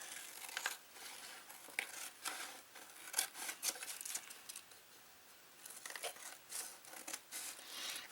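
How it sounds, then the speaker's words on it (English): Scissors trimming away excess material from the edge of a small handmade junk journal cover, a series of quiet crisp snips and paper-like rustles at close range with brief pauses and no talking. "And we'll cut the excess away."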